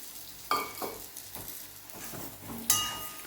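A spoon stirring boiled, peeled potatoes in a pan with frying dum aloo masala, giving a few scraping strokes and light clinks over a soft sizzle, near and fairly quiet.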